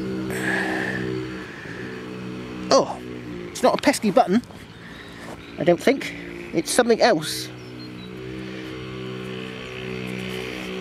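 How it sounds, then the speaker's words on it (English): Motorized mini motorbike at a nearby house: an engine droning steadily with tonal hum, rising into loud revving bursts around the middle, while someone talks quietly over it outdoors. "one of them's got one of those motorized mini motorbike things making a bit of a racket."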